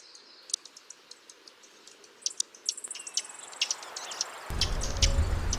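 Recorded songs of common yellowthroat, northern cardinal and other birds played together, a cluster of high chirps, whistles and trills building in density, faint at first, then joined by a low rumbling background.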